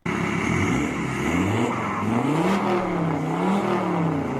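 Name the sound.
Alfa Romeo diesel car engine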